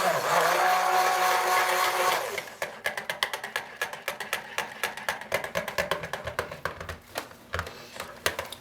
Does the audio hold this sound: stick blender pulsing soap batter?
yes